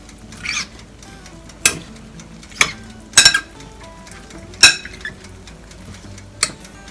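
Fish bagoong dressing being mixed for a sweet potato leaf salad with salted eggs: a handful of sharp clinks and taps of a utensil against a bowl, spaced irregularly with quiet stirring between, close and fairly loud.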